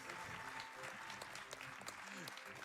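An audience applauds at the end of a Paper Mario: The Thousand-Year Door speedrun at a charity gaming marathon, a steady clapping wash that stays fairly quiet with voices talking over it.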